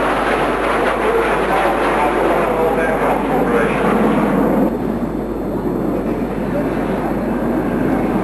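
An Aermacchi MB-326 two-seat, single-engine jet trainer roars with a loud, steady broadband rush that eases slightly partway through, close and continuous.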